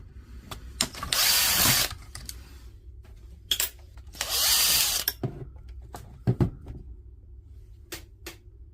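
A power driver backs out screws during a DeWalt power tool repair, sounding as two long, loud whirring bursts with short clicks and handling knocks between them.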